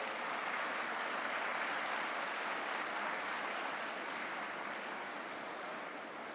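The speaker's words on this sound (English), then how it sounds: "Can we keep the applause going" Sustained applause from an audience at a graduation ceremony on the Hyderabad campus, a dense, steady clapping that carries on evenly throughout with no voices over it.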